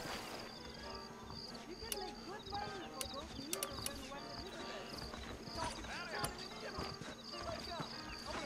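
Horse hooves clip-clop at a steady pace in the Western video game Red Dead Redemption, layered with game music and ambient sound while someone talks over it.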